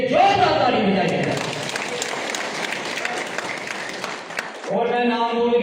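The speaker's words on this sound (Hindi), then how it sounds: "सभी किसान भाइयों के लिए जोरदार ताली बजाइए।" Loud applause from a crowd at a farmers' union gathering in Jammu and Kashmir, steady clapping filling most of the moment, framed by a man's amplified speech at the start and end.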